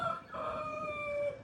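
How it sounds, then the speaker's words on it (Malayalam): A rooster crows once inside a train in Kerala, a clear drawn-out cock-a-doodle-doo heard at moderate distance over the train's low rumble. "കൊക്കരയൊക്കെ കോഴിയൊക്കെ ഉണ്ട് ട്രെയിനിൻ്റെ അകത്ത്."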